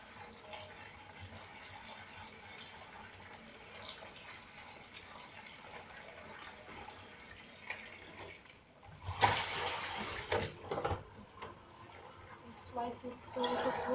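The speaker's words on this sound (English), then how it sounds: "wash the spinach again." Running tap water rinsing spinach leaves for a pork rib and taro soup, a faint splashing gush that builds and continues under a low voice.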